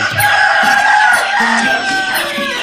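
A Phu Phan black chicken rooster crows loudly and close by on a farm, its long drawn-out call dominating the clip, with other fowl clucking faintly underneath.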